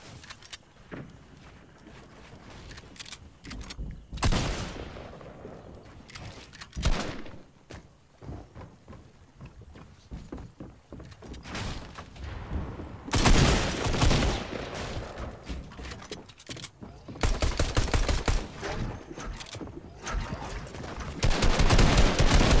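Video game gunfire crackles in repeated bursts and volleys, fairly near and loud, with heavy barrages around the middle and end and occasional footsteps between.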